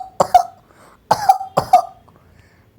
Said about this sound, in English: Poor Pedro Pony has a nasty cough.